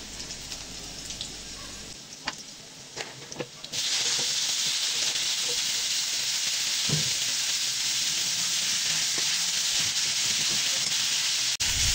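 Runner beans, flat beans and potatoes dropped into a pan of lightly fried onions, setting off a loud, steady sizzle that holds after a few clattering knocks.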